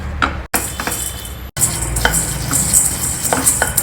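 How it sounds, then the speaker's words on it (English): Whole coriander seeds are dry roasted in a pan over a medium flame, giving a close, loud rattle and scrape of seeds stirred around the metal surface, with two brief silent gaps early on. "Dry roast this also over a medium flame."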